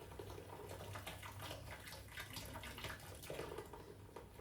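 Fizzing seltzer poured in a kitchen makes a steady, faint stream of liquid and crackling bubbles that runs without a break from start to end, with no voices.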